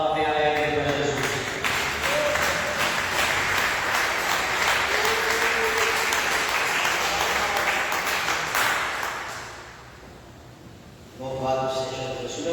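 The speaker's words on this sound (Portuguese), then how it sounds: "dê uma salva de palmas bem alegre para Jesus" A church congregation claps in joyful applause for Jesus, a dense, loud wash of many hands for about ten seconds that fades out, with voices and music at the start and end.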